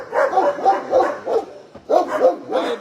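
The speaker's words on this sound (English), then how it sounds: "Why are you being so barky?" Dogs at an animal shelter bark loudly and repeatedly up close in quick, overlapping bursts with brief gaps, a busy chorus of yappy woofs.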